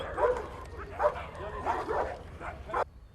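Dogs at a stray dog shelter bark and yip in repeated short bursts about every half second, fairly close and loud, while a voice speaks alongside them.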